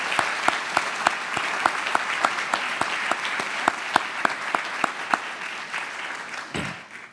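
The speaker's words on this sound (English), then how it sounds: "Let's give them a round of applause." Applause for Virginia sports hall of fame inductees at an induction ceremony, a hall full of people clapping with a few sharp, distinct claps standing out, steady for several seconds before fading out.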